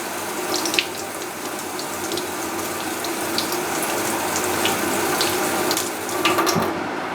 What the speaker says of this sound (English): You basically just want to rinse it until that water is clear.